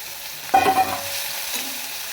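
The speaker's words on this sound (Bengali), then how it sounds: "হালকা আমি ভেজে নেব" Chopped onions fry lightly in oil for an egg biryani, a soft hiss with a brief louder sizzle and stirring burst near the start before settling back to a quiet crackle.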